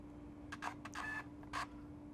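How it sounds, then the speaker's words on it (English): A RuggedJet 2 portable printer feeding a small amount of paper, a few short whirring motor bursts over a faint steady hum, close and clear. "The printer will feed a slight amount of paper"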